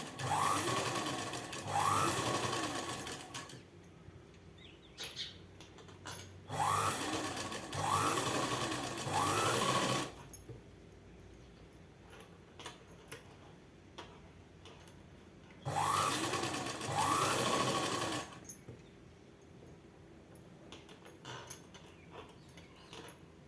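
Electric sewing machine stitching thread piping onto a garment neck piece, three separate bursts of fast rhythmic needle chatter, close and clear, with quiet handling gaps between runs.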